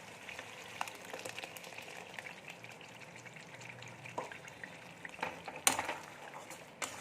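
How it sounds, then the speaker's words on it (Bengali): Tomato paste frying in oil with a cooked peanut masala in a pan, a soft continuous sizzle with faint scraping and clinks of a utensil, and a louder stir near the end. "এবারে টমেটোর পেস্টটা দিয়ে দেব।"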